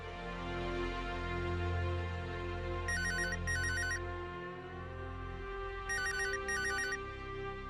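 A mobile phone rings with a repeating electronic ringtone, two short chirping bursts followed by another pair after a pause, over a steady humming background with no talk.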